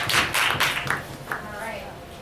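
Applause at a school impromptu speech contest: a short burst of clapping from a small audience, fairly close, fading after about two seconds, with some faint chatter underneath.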